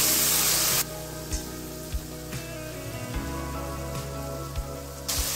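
Chopped dill greens land in a hot pan and set off a sudden, steady hiss of sizzling, with soft rhythmic knocks of stirring beneath it.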